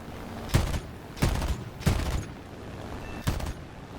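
A LaGG-3-23 fighter's guns in the War Thunder combat game fire four short, sharp bursts at irregular intervals, each a punchy, close rattle over a quiet engine drone.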